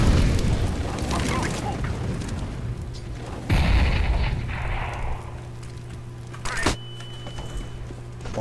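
A flashbang grenade bursts in CS:GO with a sharp bang, amid heavy low rumbling and a second crack a few seconds later, under a busy game soundscape.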